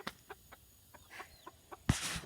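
Chickens in a TSC chicken tractor give soft, scattered clucks and short calls at a moderate distance, ending with a louder, closer squawk, with no speech.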